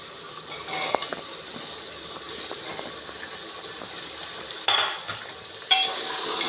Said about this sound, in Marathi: हे पण 2 मिनिटं आपलं असं हे थोडं परतून घ्यायचं.